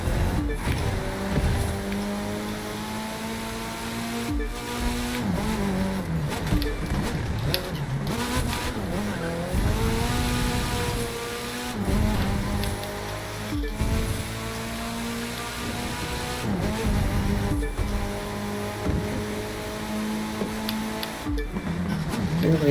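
Racing car engine in The Crew 2 revving and shifting with repeated screeching tire skids, loud and continuous, the pitch rising and falling through corners.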